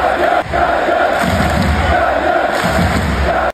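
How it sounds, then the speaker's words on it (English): A dense esports arena crowd at a CSGO Major in Paris roars and cheers for a player on stage, a loud sustained wall of voices with no pauses, heard alone. "They're just cheering for a player on stage."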